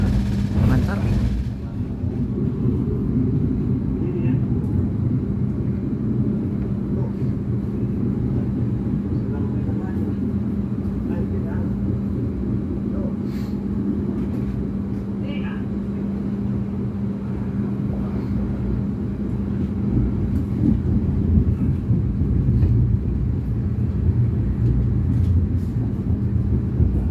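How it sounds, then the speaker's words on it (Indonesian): The Argo Wilis passenger train departs Bandung station with a continuous low rumble and a steady mechanical hum that stays close and even throughout. Faint, muffled voices sit underneath. "kereta api Argo Wheels diberangkatkan dari stasiun Bandung"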